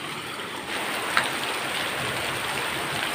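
Steady rain hisses down around a house in hilly country beside a cemetery, a dense even wash of drizzle that thickens slightly after the first moment, with one brief drip-like tick.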